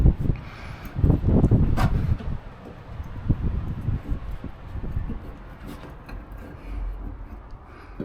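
Gusty wind buffets the microphone outdoors during hand-tool work on a Scania 143H V8 truck restoration, with heavy low rumbling bursts that rise and fall over eight seconds and no voices.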